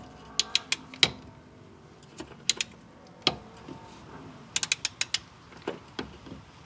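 A hand ratchet fitted with a deep socket and extensions works on the exhaust manifold nuts of a 1999–2004 V6 Mustang. It gives sharp clicking bursts close up, with a quick run of several clicks near the end.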